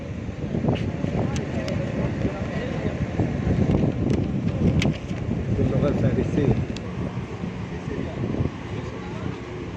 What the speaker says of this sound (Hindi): क्या ज़बरदस्त हवा चल रही है।